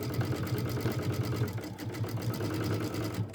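A sewing machine stitches cording round and round to build a fabric bowl, its motor humming in a steady, continuous rhythm up close with no pauses.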